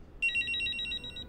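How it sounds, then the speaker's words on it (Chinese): A telephone ringtone chirps in a quick, bright electronic trill for about a second, clear and close against a quiet room. "哦，对不起，我接个电话。"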